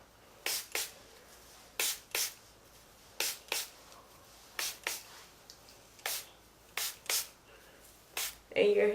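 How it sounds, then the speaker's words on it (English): Repeated short hissing bursts of a spray bottle misting water onto braided natural hair, about a dozen quick sprays in uneven pairs, close and crisp against a quiet room. "Got my water. Gonna spray it."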